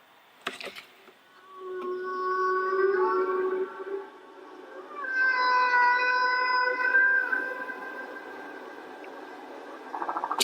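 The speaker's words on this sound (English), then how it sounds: "We welcome the whales." Whale song carrying through the water, long sliding tonal calls and moans rising and falling in overlapping strands, loud and sustained across two extended phrases with a short pause between them.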